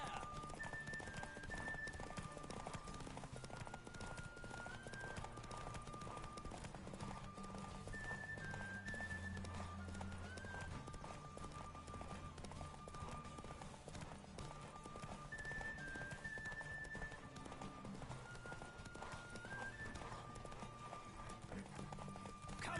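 Roach the horse galloping in a race in the video game The Witcher 3, steady rhythmic hoof clip-clop under a continuous game soundtrack, with speech mixed in at times.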